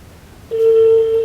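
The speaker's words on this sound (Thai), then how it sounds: "มันดังแล้วครับ ตอนนี้ครับแป้ เราโทรหาเบอร์ของโทรศัพท์เครื่องนี้นะครับ" A phone ringback tone plays over speakerphone while a mobile number is being called: a short quiet gap, then one steady continuous electronic tone that holds clearly to the end.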